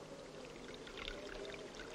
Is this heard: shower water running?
yes